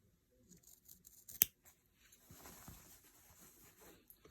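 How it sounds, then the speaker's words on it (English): Scissors cut along a line on a paper flute mask, with one sharp close snip followed by a run of softer rustling cuts and crinkling paper, fairly quiet and without speech. "Then I'll just finish cutting this side."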